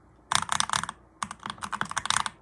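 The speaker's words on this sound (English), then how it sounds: "So I got this keyboard here, and I think it sounds pretty good." Mechanical computer keyboard with a somewhat hollow, empty sound, typed in two quick bursts of crisp clacking keystrokes, close and loud, with a short pause between.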